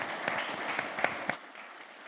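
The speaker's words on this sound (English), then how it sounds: "Can I keep that applause going for Sara as our wonderful moderator as well?" Audience at a science discussion forum gives a short, moderately quiet round of applause, with scattered distinct claps that thin out and fade after about a second and a half.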